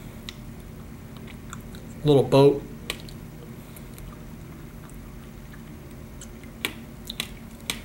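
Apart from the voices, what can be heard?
eating passion fruit, crunchy seeds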